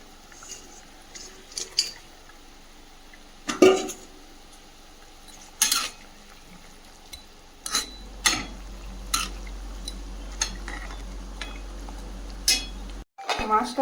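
Metal pot lid and utensils clatter intermittently while a chicken curry with fried fish simmers, with sharp separate clinks and knocks spread across the stretch over a low steady background.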